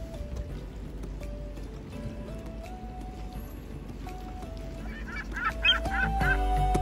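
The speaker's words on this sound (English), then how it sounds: "Seagull." Honking bird calls ring out near a breakwater in Victoria, BC, several tonal cries at moderate distance over steady low wind and water rumble, growing busier toward the end.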